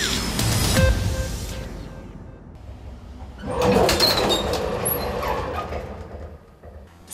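An old service elevator in a library creaks and grinds as it runs, with a heavy rumbling scrape, a quieter stretch, then a louder surge of metallic squeaks and rattles; close, with no voices.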